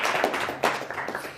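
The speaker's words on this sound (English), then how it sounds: "if you could give a big round of applause for Mr. Richard Osterland" Audience clapping for magician Richard Osterland at a live show, a short burst of scattered claps with a couple of sharper accents, moderately loud, no talk over it.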